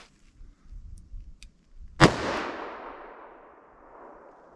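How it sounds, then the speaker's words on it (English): A single sharp .357 Magnum gunshot cracks out loud and close during chronograph ammunition testing, its report decaying over a couple of seconds against quiet outdoor background noise. "Now let's try our 40 Smith & Wesson and our 357 Magnum."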